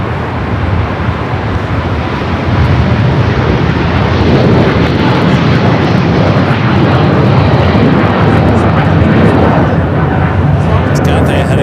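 An airliner lands on the runway at Los Angeles LAX airport, its jet roar loud, broad and continuous throughout, swelling slightly partway through, with faint radio voices underneath.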